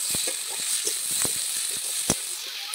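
Boiled potatoes being fried with spices in a pan: a steady, close sizzle with short scraping stirs breaking through it at irregular moments.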